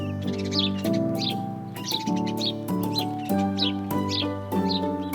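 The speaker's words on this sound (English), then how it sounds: "Sparrow" A sparrow chirps in repeated short bursts of bright, high tweets, close and clear, over a steady tonal background hum.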